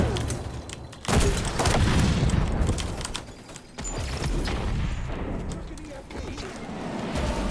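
Grenade explosion in the video game xDefiant: a sudden loud, deep blast at about one second, followed by sustained rumbling gunfire and battle noise throughout, with a voice talking over it.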